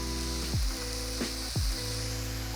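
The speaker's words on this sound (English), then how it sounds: "we're gonna take our spider strainer and we're gonna gather up some of this pasta and throw it right into our pot" Whole wheat pasta drops into a hot pot with a continuous loud sizzle, broken by three sharp splashing bursts as portions land, close and alone.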